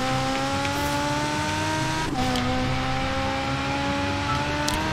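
A 1989 Ferrari F40 Competizione engine revving while driving, a loud steady drone heard from inside with a brief dip in pitch midway as it shifts, then climbing again.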